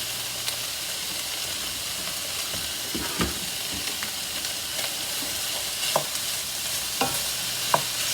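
A spoonful of tomato paste frying in a hot pan as the base for a fajita pasta bake, with a broad steady hiss and occasional soft clicks and taps of a utensil, and no voices.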